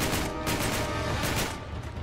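Gunfire in Uncharted 3, a rapid burst of repeated loud shots in a steady rhythm over dense, noisy game action, continuing almost without pause and thinning out toward the end.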